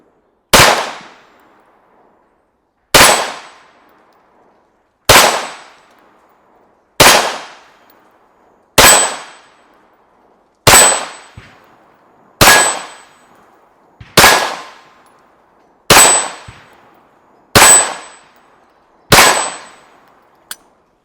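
A pistol fitted with a Granite MOS competition optic fires about eleven single shots outdoors, each a loud sharp crack with a short ringing tail, spaced roughly two seconds apart in an even rhythm, with no talking.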